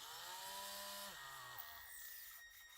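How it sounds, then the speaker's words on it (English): Power drill boring into a Mezco toy figure's ankle with a stronger drill bit, a steady mechanical whine that drops in pitch twice as the bit bites, then fades out. "This is a much stronger drill bit, but it don't mean it's invincible."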